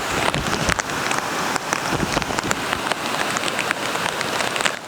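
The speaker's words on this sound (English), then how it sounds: "It was sunny 15 minutes ago and now it's downpouring again." Heavy rain pours down steadily outdoors, a dense, even hiss of drops drumming on surfaces with no pauses and no voices.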